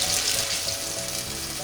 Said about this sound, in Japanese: 全ての面を焼き付けて、こちらブラウンシュガーもたっぷり入ってるので焦げやすいのでご注意くださいね。